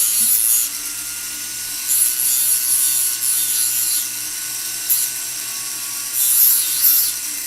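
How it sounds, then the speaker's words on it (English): Sanding a wooden box clasp by hand: bright, rasping strokes come in several separate bursts with short pauses between, close and fairly loud. "We'll go ahead and sand the other part."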